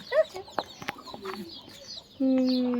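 Fighting roosters raised for cockfights cluck and call in short, close bursts, followed by a sustained steady tone near the end.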